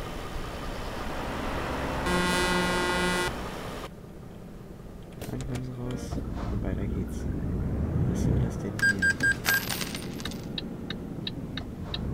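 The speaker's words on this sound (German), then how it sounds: "Er hupt." Truck horn honking in Euro Truck Simulator 2 at a fuel stop, a loud sustained blast followed by shorter toots and clicks against engine rumble and ambient game sounds.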